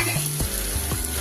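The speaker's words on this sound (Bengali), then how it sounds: "এবার দিয়ে দেব টমেটো কুচি।" Chopped tomatoes sizzling in a pan with fried ginger and garlic for a chicken curry, a loud, steady close frying hiss.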